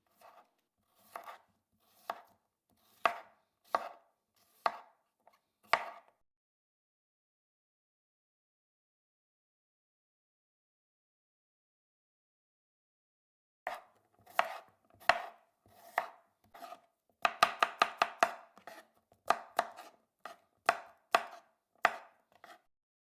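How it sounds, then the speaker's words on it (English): A knife chops scallions finely on a cutting board with crisp, evenly spaced taps, stops for several seconds of silence, then resumes with a quick, rapid flurry of strokes before slowing again. "And just cut the pieces finely."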